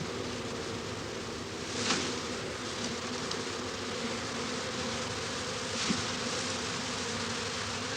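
Swarm of honey bees gathered at a hive, a dense continuous buzzing drone that fills the space evenly and closely, with a couple of slightly louder swells as individual bees pass near.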